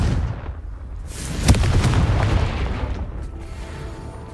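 A Confringo blasting spell bursts in Hogwarts Legacy, one sharp, loud blast landing partway through, with a rumbling, crackling tail that fades over a few seconds.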